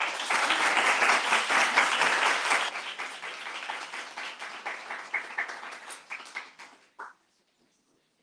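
Audience applause at a poetry conference, loud and dense at first, then thinning into scattered claps that taper off into near silence by the end.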